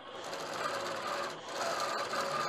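A sewing machine stitches a quilt panel in a short, steady close burst with a brief dip midway, no talking over it.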